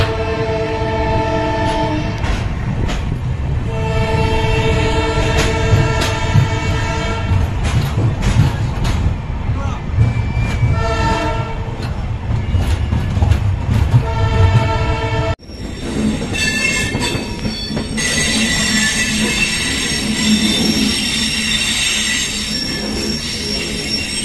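The Pamban Express passenger train runs out of Rameswaram toward Tambaram. Wheels squeal loudly and continuously with a rumbling rail roar, the sound is close and sustained, and the tone shifts abruptly partway through.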